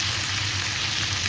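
Chicken pieces and masala frying in a pan for Assamese-style chicken curry, a steady even sizzle throughout, close and moderately loud, no talk.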